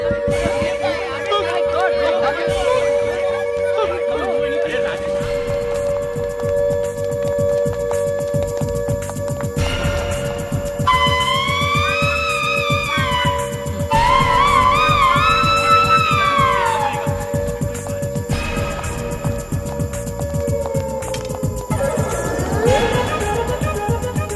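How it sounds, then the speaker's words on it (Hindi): A siren-like alarm wails continuously and loudly, with rising and falling tones layered over a constant high pitch and a busy background. "फॉल्स अलार्म था"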